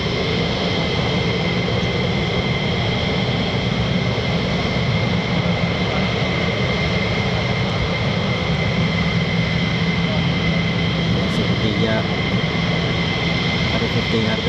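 An F-15 fighter jet taxis back to the ramp at RAF Lakenheath, its engines giving a loud, continuous roar and whine that holds steady throughout, with no pause.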